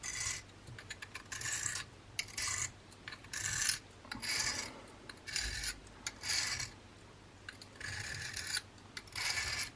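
A pen knife is rubbed across a sharpening stone in repeated rasping strokes, each a short hiss followed by a pause, fairly close and quiet, with no voices.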